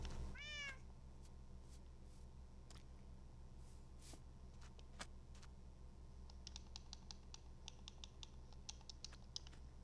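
A cat gives a short rising meow near the start, followed by scattered soft clicks and taps over a low steady room hum, with no speech.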